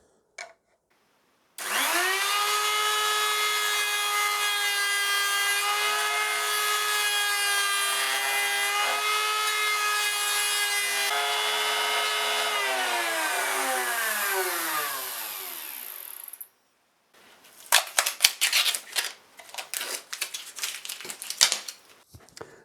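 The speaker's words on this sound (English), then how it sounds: "hopefully we can very quickly route out the material that we don't need" A router cuts away unwanted wood on a guitar body, a loud, steady high-pitched whine lasting about fifteen seconds that sags in pitch as it spins down, followed by scattered scraping and knocking of wood.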